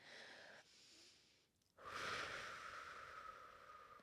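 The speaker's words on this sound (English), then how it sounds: "I want you to breathe out like you're blowing out a candle through pursed lips." Slow, breathy exhalations through pursed lips, like blowing out a candle, come close and soft: a steady airy hiss, a pause with a quick intake, then a stronger, longer outward blow.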